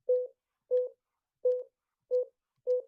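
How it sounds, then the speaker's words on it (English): An automated phone line plays five short, evenly spaced keypad dialing beeps of the same pitch, clean and moderately loud against silence. "Please dial the extension number."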